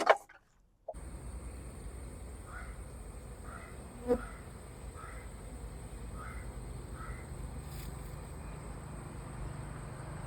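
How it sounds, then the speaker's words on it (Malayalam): Stingless bees buzz around their colony box with a steady outdoor drone, while a series of crow caws repeats in the distance over it. "ഇവിടെ ഒരു ചെറുതേനീച്ച കൂട് നമുക്ക് കാണാം"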